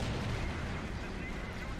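Tank gunfire and artillery rumble from the Men of War: Assault Squad battle at Seelow Heights, 1945, a dense, continuous roar of distant booms and bursts with no clear separate shots, steady and fairly loud throughout.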